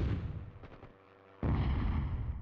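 Shooting in the PS1 game Hogs of War: heavy booming blasts with a deep rumble, a brief near-silent gap, then another loud sustained explosion-like roar, close and with no talking.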